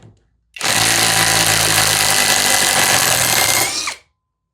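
Hanabi LJ2022 cordless drill driver backing out a screw with auto stop engaged, one loud steady whine of about three seconds starting abruptly and cutting off at the end, alone without talk.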